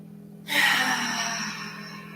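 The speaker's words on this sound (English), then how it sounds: "Let's do 3 more breaths." A single deep breath in a yoga class: a soft, breathy exhale rises suddenly and then slowly trails off over a steady low hum, close to the microphone.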